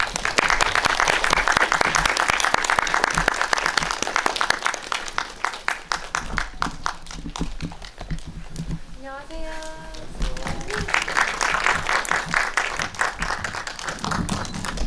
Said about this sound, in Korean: 들어오실 때 정말 따뜻하고 큰 박수로 세 분을 맞이해 주시기 바라요.